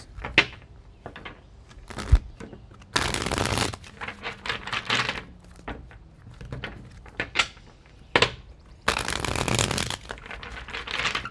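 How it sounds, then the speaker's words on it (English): A tarot deck is shuffled outdoors in several brisk riffling bursts, each a loud papery flutter lasting a second or so, separated by quieter handling clicks and pauses. "2 more shuffles"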